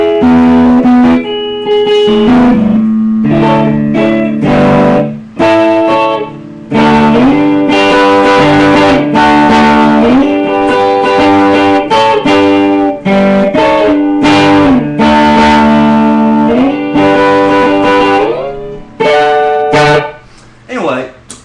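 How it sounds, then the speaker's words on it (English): A Rickenbacker electric guitar plays loud, choppy chords and riffs through distortion and effects, with punchy stops and bursts and a gritty, driven tone throughout. "that's the sound of the Rickenbacker"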